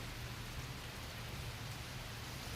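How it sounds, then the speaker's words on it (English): Rain falls steadily outdoors on a gray, stormy day, a soft continuous hiss of drops with no other sounds above it. "All this rain and storms."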